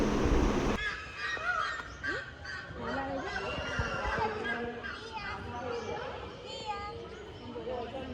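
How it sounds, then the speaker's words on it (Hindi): Peacocks, swans and other birds honk and call in an aviary at the Jungle Safari park near the Statue of Unity, a dense chorus of overlapping cries at middle distance, with people talking throughout. "सुनो पीकॉक"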